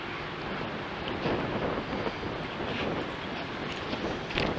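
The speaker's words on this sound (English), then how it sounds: "It's really windy now all of a sudden too." Steady, blustery sea wind roaring across the microphone in gusts aboard a cruise ship in the Eastern Caribbean, a broad rushing noise with no voices.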